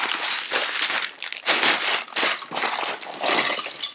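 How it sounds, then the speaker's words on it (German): Crinkling plastic rustles in irregular bursts, close by, as a LEGO parts bag from a City Safari Jeep set 60267 is pulled and torn open, with no voices. "Machen wir mal Tüte 1 kurz auf"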